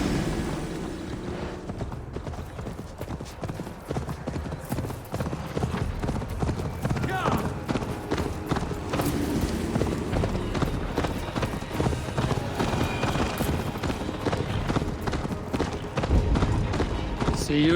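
Rapid hoofbeats of a galloping horse in the video game Assassin's Creed Valhalla pound continuously, with a voice speaking over the rhythmic clatter.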